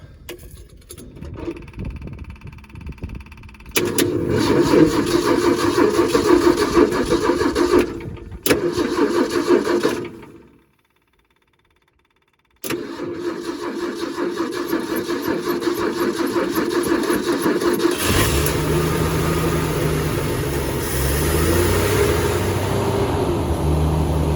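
Classic engines from an International, a Valiant and an F100 crank and fire up, running loud and rough at idle. A brief silent gap is followed by a lower, steadier engine rumble that carries on to the end.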